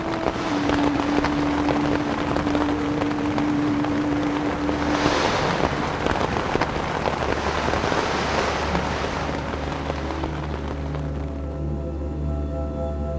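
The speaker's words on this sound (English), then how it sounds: "The winter rains turn the valley into a mud bath" Winter rain over the Jordan Valley makes a dense, steady hiss of broadband noise with a low rumbling undertone that stays even throughout, loud and close, with a faint thin tone drifting in briefly.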